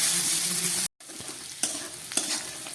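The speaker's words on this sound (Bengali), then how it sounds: "এবার আলু পেঁয়াজটাকে আবার একটু ভেজে নিচ্ছি।" Sliced potatoes and onion sizzle steadily in hot oil in a pan, with a brief cut and a couple of sharp clacks as a spatula stirs them.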